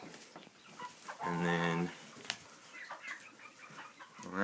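Old English hens sitting on eggs give one loud, drawn-out clucking call near the middle, with fainter bird sounds and a person talking before and after.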